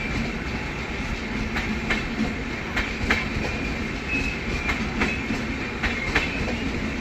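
Awadh Express picking up speed: steady rail rumble with rhythmic wheel clacks over joints coming every second or so, heard close from a moving coach, with no talk.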